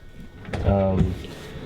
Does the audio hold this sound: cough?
no